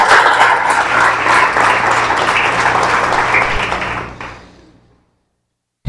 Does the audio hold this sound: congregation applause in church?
yes